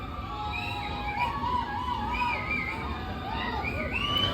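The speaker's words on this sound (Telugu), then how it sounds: "ఇక్కడ ఉండే లొకేషన్స్ క్రౌడ్ అయితే చూడండి ఎలా అరుస్తున్నారు" Passengers on an Araku valley train shout and whoop together inside a tunnel, a dense crowd of overlapping raised voices and high calls sustained throughout over a low rumbling roar.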